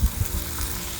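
Tomatoes sautéing in a pan over a wood fire, giving a soft continuous sizzle with occasional low thumps and stirring noises, fairly close.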